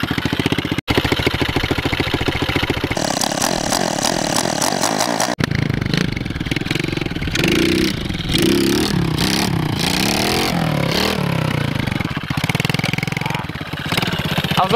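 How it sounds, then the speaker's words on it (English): A pit bike's small engine revs hard and continuously while being ridden outdoors, its buzzy pitch climbing and dropping through changing throttle. The sound is loud and close, with no talk over it. "We'll rip the pit bike around for a little bit."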